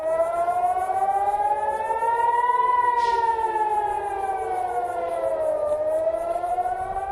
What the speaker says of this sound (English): sirens were heard across Haifa, Israel